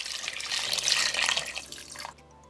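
Water pouring from a tap into a pot for boiling whelks, a bright splashing gush for about two seconds that then cuts off, leaving a quiet tail.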